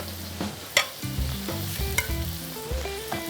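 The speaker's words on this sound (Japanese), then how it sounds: "軽く炒めていきながら、まだ切る食材はあります。" Ingredients stir-fried in a pan for pasta paella, with steady sizzling under repeated scraping and clattering strokes of a utensil against the pan, a few sharper knocks standing out.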